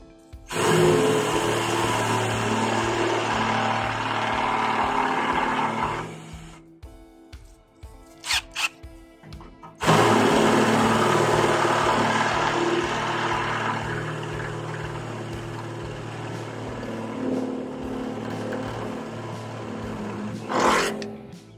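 A loud, grinding power drill bores a 1/2-inch hole into a steel barrel, pauses briefly with a few clicks, then resumes its harsh whining roar for a long stretch.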